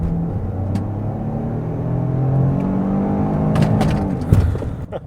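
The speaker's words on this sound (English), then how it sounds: "that's just because of the 3-cylinder noises up there" A 2023 Ford Escape Active with a three-cylinder engine accelerates, its drone and rumble building steadily from inside the cabin, loud and continuous with no talking.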